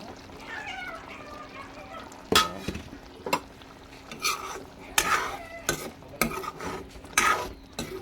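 Masala fries in a pan with mustard and a little water, under a steady sizzle broken by repeated scraping and clanking stirs of a utensil against the pan.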